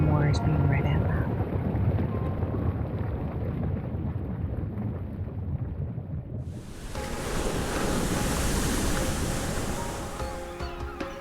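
Ocean surf and a brisk sea breeze in the Ys X: Nordics video game, a steady broad wash of waves and wind that swells louder partway through, with a voice talking over it.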